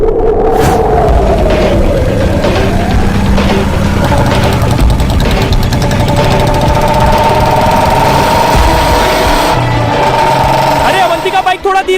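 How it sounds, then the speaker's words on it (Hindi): A motorbike engine runs steadily at close range, a loud constant drone with knocking texture under animated cartoon dialogue, its pitch shifting slightly across the ride. "बाइक थोड़ा धीरे चलाओ, नहीं तो यमराज के पास पहुँचने में हमें टाइम नहीं लगेगा"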